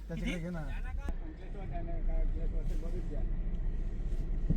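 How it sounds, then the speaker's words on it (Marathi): Steady low road rumble of a car cruising on a highway during a Pune to Dwarka road trip, a constant drone from inside the cabin with voices talking over it early on. "गाडी चालली गाडी"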